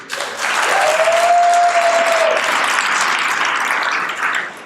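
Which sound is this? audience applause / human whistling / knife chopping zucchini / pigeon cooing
audience applause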